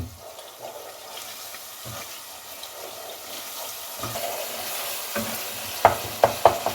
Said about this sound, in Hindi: अब इसका फ्लेम थोड़ा सा हाई कर दें और इसको अच्छे तरीके से भून लें।